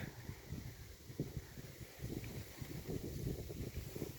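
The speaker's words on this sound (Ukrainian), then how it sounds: "Але вітер не перестає." Steady wind buffeting the microphone with low rumbling gusts, continuous throughout, no talking.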